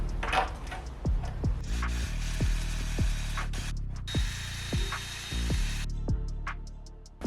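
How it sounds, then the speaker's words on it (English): A power drill whirs in short repeated bursts, each rising and falling in pitch, with scraping and grinding as it bores holes through the plastic front lip of a BMW E46 M3 CSL. "I'm gonna drill these out right now"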